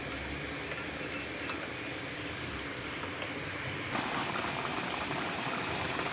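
White sauce for tagliatelle bubbles steadily in a pot, a constant close simmering hiss with soft popping and no break, heard alone with no talking.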